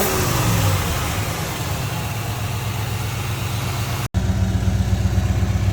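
A Chevrolet Impala engine runs steadily after a fresh set of spark plugs, a continuous close, low idle rumble with even rhythm and a brief dropout near the end before the running resumes.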